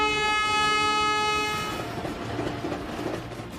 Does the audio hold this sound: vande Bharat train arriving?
yes